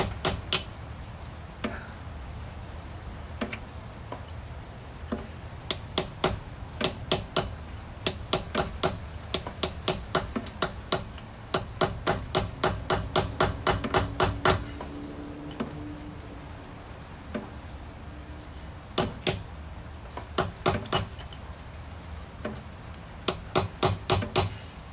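Hammer tapping a Subaru wheel bolt down, sharp metallic strikes landing in quick bursts of rapid repeated blows separated by short pauses, close and loud, with no talking.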